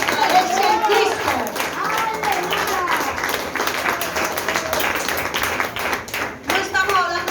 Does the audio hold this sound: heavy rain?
no